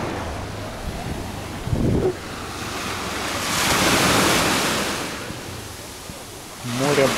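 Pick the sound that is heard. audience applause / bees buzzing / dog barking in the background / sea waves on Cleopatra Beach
sea waves on Cleopatra Beach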